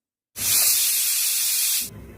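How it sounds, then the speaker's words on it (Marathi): A pressure cooker cooking lemon pickle vents steam in one loud, steady hiss of about a second and a half that starts and stops abruptly, close by, with no talking. "7 ते 8 शिट्ट्या कुकरमध्ये करायच्या"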